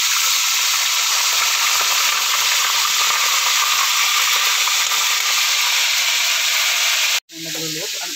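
Fish cooking in soy sauce with calamansi, a steady broadband sizzle and hiss held close and constant for about seven seconds, broken by a sudden cut and a brief quieter clatter at the end.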